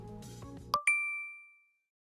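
A bright two-note electronic chime from a digital payment rings out clearly and fades, following a brief snatch of music.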